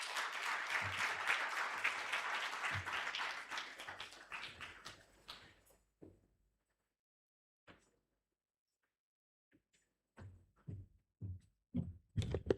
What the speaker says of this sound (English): that hand clap should have been bigger